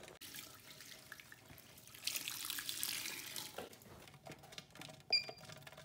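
Sparge water pours into a Grainfather all-in-one brewing system during an NE IPA brew, a steady splashing rush that builds in the middle, with a few clinks near the end.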